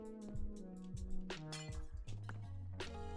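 Glass blocks being placed in Minecraft Bedrock Edition, a run of short bright clinking taps with tonal chimes and a game music bed underneath, close and moderately loud.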